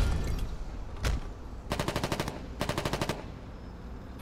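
Gunfire in the video game Foxhole: a single sharp shot, then two quick bursts of rapid automatic fire, loud and close, with background battle noise throughout.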